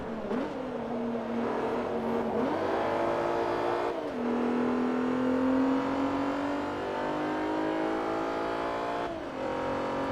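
Race car engine in Forza Motorsport 3, an all-wheel-drive open-wheel test, revs hard and loud with rising pitch through the gears, dropping at each of several gear shifts, heard close and continuous.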